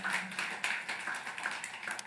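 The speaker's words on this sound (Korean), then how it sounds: "박수 치려면 크게 치세요." A congregation claps together during a Sunday church service, a dense, continuous patter of many hands at moderate loudness, steady throughout.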